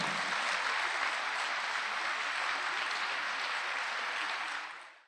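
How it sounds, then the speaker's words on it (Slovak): An audience at a concert claps in a dense, sustained round of applause that holds steady for several seconds and then fades out. "Tak ešte jeden veľký potlesk pre nich."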